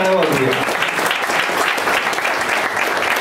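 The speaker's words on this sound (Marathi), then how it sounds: "परत एकदा आपण जोरदार टाळ्या वाजवूया." Loud audience applause at a book-lovers' gathering, a sustained dense clapping crowd that starts as a voice trails off.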